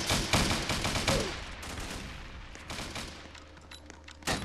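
A burst of rapid gunfire in a Roblox prison riot game, dense overlapping shots at the start fading into scattered bangs, with a final loud shot at the end, no talking.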